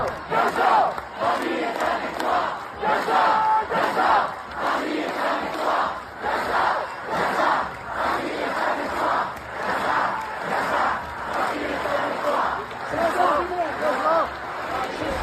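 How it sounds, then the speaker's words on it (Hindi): A large crowd at a pro-Palestine protest in Paris chants and shouts in rhythmic, pulsing waves, loud and continuous with dense voices overlapping throughout. "फ्रांस की राजधानी पेरिस में फ़िलिस्तीन गज़ा के समर्थन में खतरनाक प्रदर्शन हो रहे हैं"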